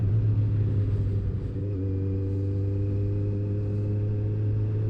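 Motorcycle engine with a quick action throttle, a loud steady low rumble close by, with a brief dip then a smooth rising tone as it pulls again, no voices.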